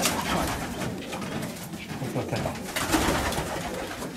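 A racing pigeon coos softly up close, its low burbling calls repeating over a rustling loft background.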